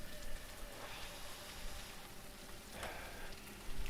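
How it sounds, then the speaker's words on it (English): Steady rain falls with a soft, constant patter and hiss, faint and unbroken, with no voices over it. "I'm kind of sitting here listening to this rain"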